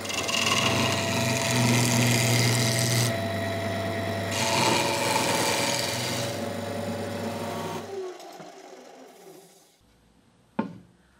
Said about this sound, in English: I've mounted the inner ring on the lathe,